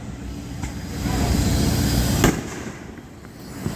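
Fireworks bursting at a show, a sustained rumbling barrage with one sharp, loud crack standing out midway and a smaller pop near the end, no voices.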